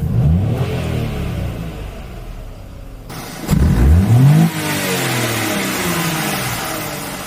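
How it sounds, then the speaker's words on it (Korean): A stationary car's engine is revved with the accelerator pedal, climbing in pitch through two rising sweeps up toward about 5000 rpm before settling back to a steady, fairly loud idle hum, with no voices. "가속 페달을 밟아 엔진 회전수를 5000rpm까지 높였는데도"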